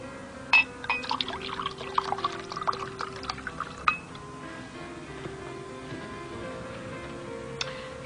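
Falonian wine is poured into a glass, with a burble of liquid and a few bright clinks early on, then a quieter steady room tone with a faint tick near the end.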